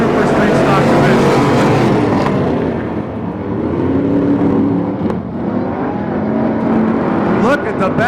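Super Street Stock cars racing three abreast down the back straightaway at a Pearsonville, California turkey classic, a loud, sustained engine roar with a commentator talking over it.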